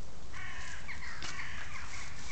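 Crows caw outdoors in a series of harsh, moderately distant calls, one louder burst in the middle, over steady background hiss with no talking.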